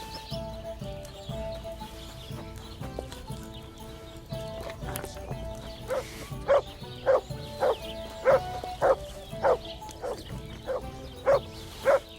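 In Kingdom Come: Deliverance II, a dog barks in a steady, evenly spaced series of sharp barks over the second half, mid-distance, over horse hoof clip-clops and background game ambience.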